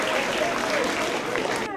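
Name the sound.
applause at school anniversary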